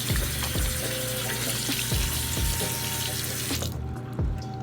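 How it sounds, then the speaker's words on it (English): A running tap pours steadily into a sink while hands are washed with homemade blackberry and lemon soap, the water loud and close with brief splashy changes as the hands move, no voices. "I kind of don't want to stop washing my hands now."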